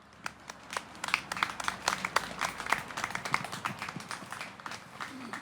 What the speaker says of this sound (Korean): 큰 박수로 모셔주십시오